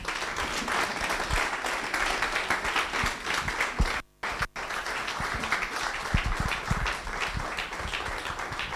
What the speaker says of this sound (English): Please, a big round of applause for Prof. Osinbajo.